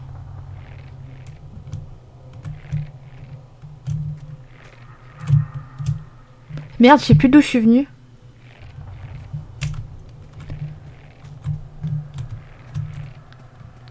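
Computer keyboard keys click in short bursts while someone plays Tomb Raider II on PC, light tapping near the microphone with a brief flurry, someone talking over it and game sounds underneath.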